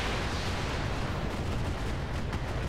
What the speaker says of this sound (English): we're gonna just fire with the LRMs, go for a headshot